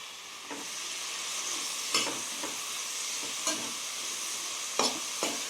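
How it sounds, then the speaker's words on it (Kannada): Two large chopped onions frying in oil in a cooker pan, a steady sizzle broken by occasional scraping stirs, heard close with no talk. "ಈರುಳ್ಳಿ ಕೆಂಪಗಾಗೋ ತನಕ ಹುರ್ಕೊಳ್ಳೋಣ"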